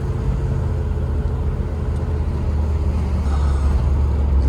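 A 1988 Range Rover Classic SWB on the move, its steady low engine and road rumble droning evenly from inside the cabin without a break, no talk over it.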